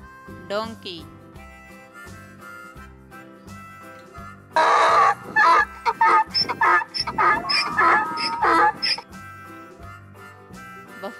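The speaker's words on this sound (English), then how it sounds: "Donkey." Domestic donkey braying loudly, a run of harsh repeated honking calls in a rhythmic series lasting several seconds, heard alone after a short spoken word.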